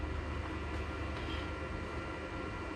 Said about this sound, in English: it's making a little valve train noise now that I've actually gotten out of here to hear it